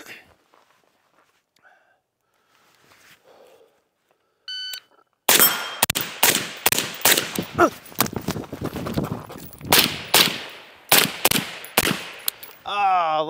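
Rapid series of gunshots fired at steel targets on an outdoor shooting range, loud sharp cracks with metallic rings, arriving in quick irregular bursts after a quiet stretch with faint talk.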